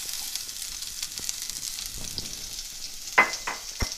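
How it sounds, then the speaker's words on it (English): Chopped garlic, shallot and mushrooms sauté in a hot pan with a steady close sizzle, broken near the end by a few sharp scrapes of stirring. "let that saute for a little bit until the mushrooms start to brown"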